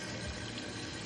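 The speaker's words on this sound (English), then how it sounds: "Get some cool water in this" Cool tap water running into a boiled banana pot in a home kitchen, a steady faint rushing pour over about a second, with no voices.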